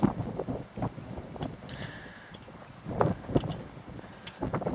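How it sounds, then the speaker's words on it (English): Wind blows outdoors across a hot, dry garden with pine trees, gusty buffeting and rustling that swells and fades in uneven bursts, fairly faint with microphone rumble. "and we still got that wind."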